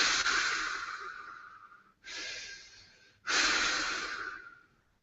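A voice imitating heavy breathing, three long, loud, rasping breaths in a slow rhythm with short gaps between them, close and alone.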